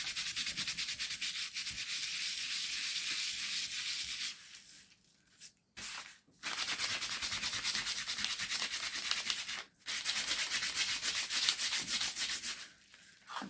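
Wax is rubbed onto a grungy craft journal cover in steady, close, dry scrubbing strokes that run continuously, broken by a few short pauses before the rubbing starts again.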